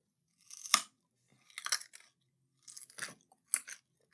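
Close, crisp crunching bites and chewing of pig nuts come in four short bursts separated by silence, intimate and quiet with no talking.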